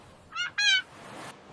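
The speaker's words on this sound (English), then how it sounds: "This is a seagull." A seagull cries on a beach by the sea, two short harsh nasal calls, close and clear, followed by a softer trailing note.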